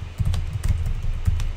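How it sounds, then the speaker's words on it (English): Fingers type on a computer keyboard in a quick, uneven patter of soft, close clicks and thuds, continuous and alone without speech. "Okay, Russ, I'm typing your name in now."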